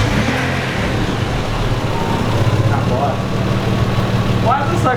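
A car with a cracked, holed exhaust idling nearby, a rough low rumble running steadily underneath people talking.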